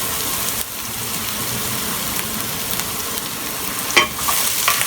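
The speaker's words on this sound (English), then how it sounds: "Going to stir fry this about 30 seconds." Chopped garlic and fresh ginger stir-fry in a hot pan for General Tso's chicken, a constant close sizzle broken by a brief louder scrape near the end.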